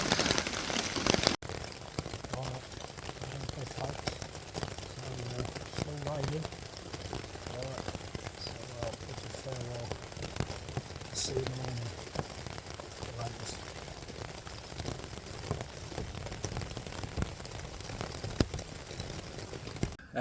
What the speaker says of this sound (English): that was a really wet night. It proper rained